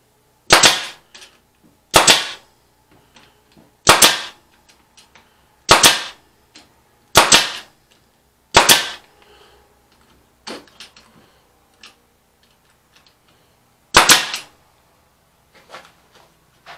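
A nail gun driving nails into a bucket fork cover, with sharp loud single shots spaced about every one to two seconds, each followed by faint clatter, and quiet gaps between them.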